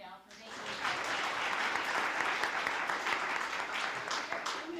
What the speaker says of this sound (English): we're going to give them a round of applause right now for making it